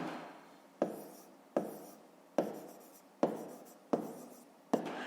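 A pen writes on paper during a fifth-grade math exercise, six short distinct strokes at a steady rhythm, each a sharp scratch fading out, close and quiet with no talk.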